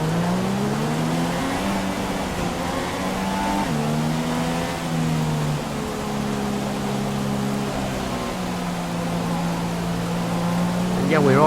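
An F1 car engine on a formation lap in the video game F1 2016, a steady droning hum that shifts pitch up and down through gear changes, loud and continuous, with a voice talking over it.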